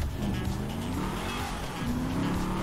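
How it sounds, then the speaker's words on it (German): Fast sports car in GTA V on PC, engine droning steadily with squealing tires and a rising whine, loud and continuous with no talking. "endlich mal wieder ein Auto, das ein bisschen schneller fährt"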